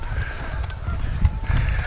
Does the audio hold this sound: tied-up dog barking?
no